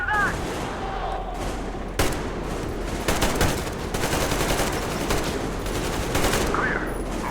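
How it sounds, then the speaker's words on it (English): Sustained covering gunfire in the video game Metro Exodus, with rapid, loud bursts and sharp shots crackling continuously and a faint voice briefly heard near the start. "Covering fire for the Colonel."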